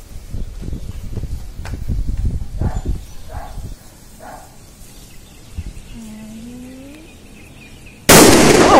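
Diwali firecrackers burst during a celebration in Mauritius: a series of pops and crackles, then a loud, sharp blast near the end, with faint whistling tones and bird-like chirps in between.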